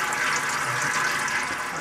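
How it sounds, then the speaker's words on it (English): Transmission fluid drains from an automatic transmission pan into a large drain pan, a steady close trickling and splashing of liquid with no talk over it. "Our drips here are slowing down."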